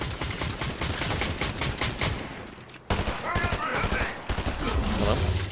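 Gunfire in the Fortnite Battle Royale game: rapid volleys of automatic shots crackling in quick succession, loud and near, pausing briefly midway before another burst, with some speech mixed in.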